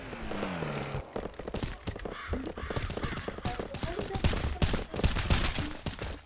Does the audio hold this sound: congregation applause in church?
no